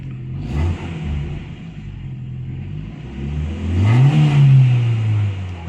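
Engine of a Toyota Corolla AE101 revs up to around 3000 rpm, rising from a steady idle into a loud, climbing surge near the end and then holding high.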